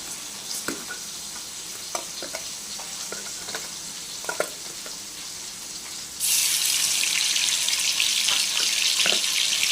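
Small chopped shrimp added to a hot pan, light stirring clicks over a soft frying hiss that jumps abruptly into a loud, bright, sustained sizzle as the shrimp hit the oil.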